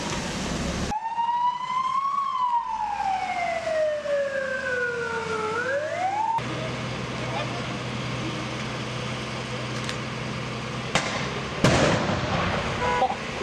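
Fire engine sirens approach a burning small truck in Slagelse, a loud wailing tone sweeping up and down over road rumble before giving way to traffic noise and a few sharp bangs.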